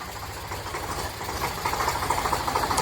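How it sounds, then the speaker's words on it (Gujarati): A tractor engine idles steadily with a low, rhythmic chugging at a farm during the groundnut harvest, growing slightly louder partway through; no talking. "હેલો ફેમિલી આપણું ટ્રેક્ટર આવી ગયું છે"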